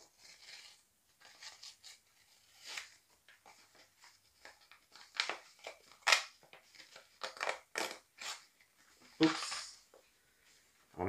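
A paper letter has its edges torn open, giving a run of crinkly tearing and crumpling rasps in irregular bursts. The sound is close and fairly quiet, with no talk over it.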